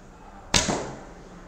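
A lightweight 340-grain arrow is loosed from an Akos Tarim bow, giving one sharp, close release snap that trails off into a short, fading hum of string and limb vibration.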